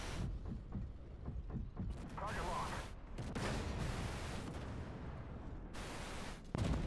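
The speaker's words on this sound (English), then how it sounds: "Those swing fire missiles are a pain." Swingfire missiles launch in a tank combat video game, giving a dense run of rumbling blasts and whooshes layered under continuous battle noise, with players talking over the action.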